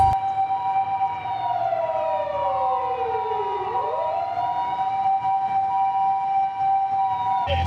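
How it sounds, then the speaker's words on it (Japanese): A Sakai emergency vehicle siren in Japan wails loudly, its pitch sweeping down and back up over a steady engine hum. "サイレンを鳴らして出発します。"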